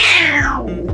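A ginger cat being bathed lets out a loud, drawn-out angry meow close up, a falling wail followed by a shorter second cry, with water splashing faintly behind.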